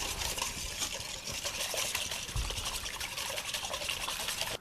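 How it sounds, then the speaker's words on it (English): Wet red velvet pancake batter ingredients (vanilla, melted butter, red food coloring) being mixed: a continuous close, wet sloshing and clinking for a few seconds, with no talking. "I'll mix it well, and then I will add it to the dry ingredients"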